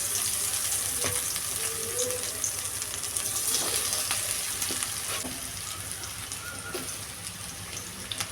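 Masala-coated paneer fries in hot oil over a medium flame with a steady, close sizzle and scattered pops and crackles throughout, with no talking.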